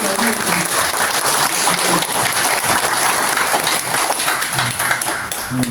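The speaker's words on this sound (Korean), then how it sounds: "박수 보내주시기 바랍니다." Applause from an audience greeting arriving guests at a Buddhist commemorative dharma service, a dense, steady wash of clapping that runs loud and unbroken throughout, with some faint background voices.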